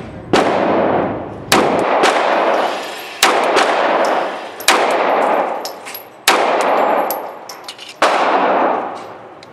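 Handgun fire during head-shot practice with an EMP pistol: six loud, sharp single shots spaced a second or two apart, each followed by a ringing, echoing decay, with no talking between them.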